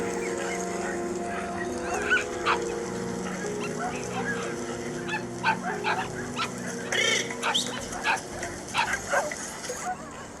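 Reindeer herding dogs bark and yip repeatedly across the open tundra, sharp close and mid-distance barks scattered over a steady background of herd and wind noise, with some faint voices.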